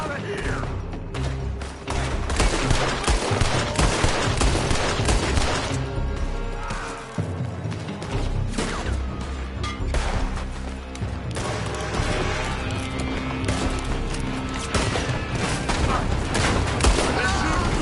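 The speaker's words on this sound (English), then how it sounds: "They're shooting from that building." Dense gunfire from the Red Dead Redemption II video game rattles on continuously, a loud barrage of overlapping shots and heavy booms with almost no pause.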